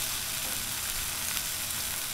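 Chicken wings sizzling on a Blackstone 22-inch griddle, a steady close hiss and crackle of frying that runs unbroken and even throughout.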